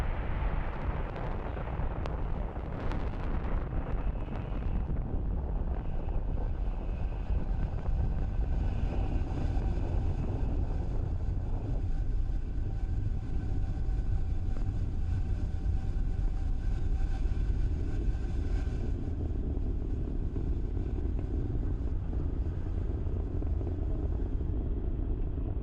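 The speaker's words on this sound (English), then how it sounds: "and lift off of Falcon 9" A SpaceX Falcon 9 rocket lifts off carrying BlueWalker 3 and Starlink satellites, sending up a loud, sustained rumbling roar with crackling at the start that slowly thins as the vehicle climbs away.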